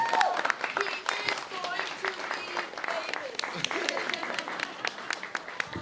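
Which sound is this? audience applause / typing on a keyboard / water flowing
audience applause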